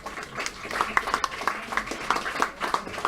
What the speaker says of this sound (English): let's give another round of applause to our champions